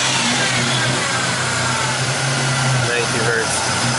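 A Buick Grand National engine revs as the throttle is snapped, a loud mid-pitched engine roar that surges and wavers over a steady running drone, close to the car.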